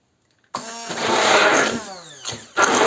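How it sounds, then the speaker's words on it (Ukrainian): A kitchen blender whirring on as it purees bananas for a strawberry-banana juice, starting suddenly, running a couple of seconds with a changing pitch, then pausing briefly and starting again. "попробую збити блендером ще раз"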